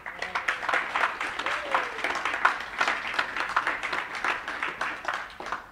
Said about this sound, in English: Very well-deserved applause.